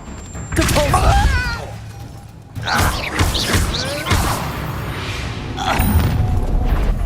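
A Depulso spell strikes in the Hogwarts Legacy video game, with whooshing blasts and heavy thuds and crashes landing in quick succession while character voices shout over the combat.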